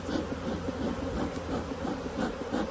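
Honeybees buzz around an open hive during an inspection, a continuous, fairly faint droning hum with slight swells, heard up close with no talking.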